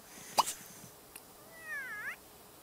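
A cat in the video game The Sims 3 gives a single drawn-out, rising and falling meow, heard clearly after a sharp plop and a faint tick, with no talk.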